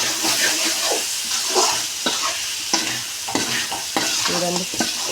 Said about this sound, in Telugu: పచ్చిమిరపకాయలు కొత్తిమీర ఒకసారి ఇదంతా కలుపుకోవాలి బాగా ముక్కలు పట్టేలాగా